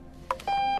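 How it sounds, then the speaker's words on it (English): An alarm clock in the Octodad video game gives a brief chirp and then one sustained electronic beep, close and clear, with no talking. "this time we're gonna go turn off the frickin' alarm clock"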